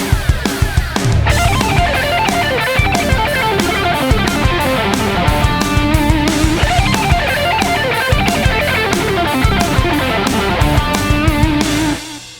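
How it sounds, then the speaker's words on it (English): A fast, fiery electric guitar lick picked in rapid even notes, loud and continuous, ringing off at the end. "Today's lick is a fiery pentatonic sequence that is alternate picked and sounds something like this."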